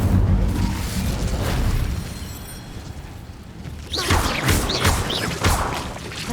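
Incendio fire spell cast in Hogwarts Legacy, a roaring whoosh and rumbling burst of flame with crackling bursts after a quieter stretch, loud and close amid game ambience.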